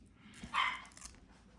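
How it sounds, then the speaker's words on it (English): Little puppies bark and whimper in the background indoors, a brief cluster of yips rising mid-clip over a quiet room hum. "Sorry for all the little puppies in the background making their noises."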